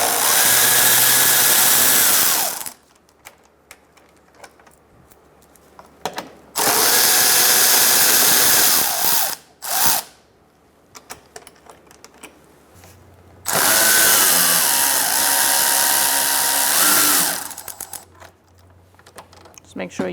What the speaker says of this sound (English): now we're going to use a 10mm socket to remove these two bolts